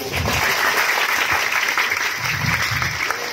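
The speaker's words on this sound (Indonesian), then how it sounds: "Boleh tepuk tangannya sedikit." An audience at a religious sermon gathering claps in a steady, dense wash of applause that holds at an even level throughout, with faint murmuring voices mixed underneath.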